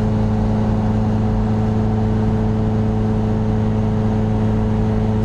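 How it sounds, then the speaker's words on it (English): A 2.0 TDI common-rail diesel in a VW Caddy van with a 7-speed DSG and all-wheel drive runs on a dyno around 50 mph, giving a loud, constant drone with steady whirring turbo tones throughout. "I can hear turbos really spooling there."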